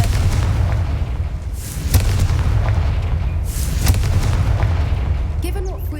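A Confringo fire spell in Hogwarts Legacy explodes with loud booms over a constant low roar. Two sharp bursts stand out a couple of seconds apart.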